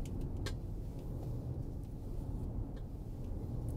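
All-wheel-drive Kia EV9 electric SUV driving and turning, heard from inside as a steady low road rumble and tyre noise with faint ticks and clicks above it, no engine note and no talking.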